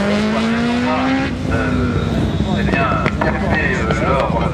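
An Irish-built slalom race car powered by a Suzuki 900cc motorcycle engine accelerates hard, its high whining engine note climbing through gears, loud and close, with a commentator speaking over it.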